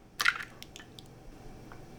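An egg cracked by hand over a bowl while the yolk is separated from the white: a brief close crack and squish, followed by faint soft drips and handling noises in a quiet kitchen.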